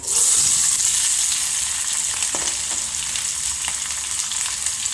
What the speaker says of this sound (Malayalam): ഉള്ളി മൊരിയട്ടെ കേട്ടോ.